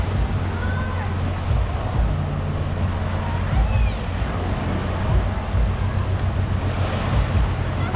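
Waves rush and churn in a resort wave pool, a continuous loud wash with faint crowd noise and wind in the background.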